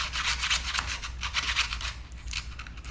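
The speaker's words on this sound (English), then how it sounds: "I got a drill bit wrapped around some sandpaper" Sandpaper wrapped around a drill bit, worked by hand on a 1980 Ford Courier steering part. It makes a steady, close rhythmic scraping, with quick repeated strokes throughout.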